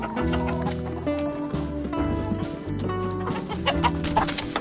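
Chickens fighting inside a coop as a dominant rooster suddenly attacks another: steady, loud clucking and agitated squawks that run throughout with a dense, tonal layer behind them.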